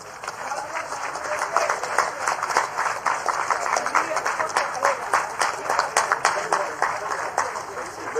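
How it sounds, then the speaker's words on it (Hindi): An audience at a political event in Katni with the state chief minister gives sustained applause, dense steady clapping from a crowd that fills the space, with voices mixed in. "एक बार जोरदार तालियां आप सभी की तरफ से इस पल में"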